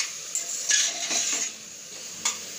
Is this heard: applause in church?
no